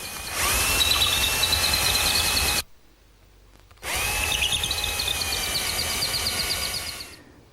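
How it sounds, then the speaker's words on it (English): A power drill whines into hardwood in two long bursts, its pitch rising as it bites, separated by a short pause. "I just clamp it in place and drill the holes"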